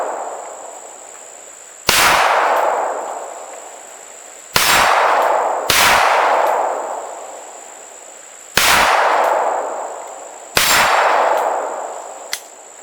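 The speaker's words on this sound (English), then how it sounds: "in short order, we threw a lot of lead downrange. That's total of 16 shots." Rifle-pistol combination guns firing, five loud, sharp gunshots spaced a second or two apart, each with a long fading echo outdoors, plus a faint click near the end.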